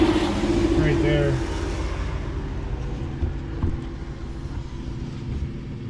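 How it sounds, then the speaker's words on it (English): Cars pass on a nearby road at night, a broad rumbling wash that swells loud early on and then fades to a steady distant hum. "And there's cars coming from"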